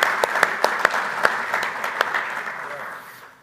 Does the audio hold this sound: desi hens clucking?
no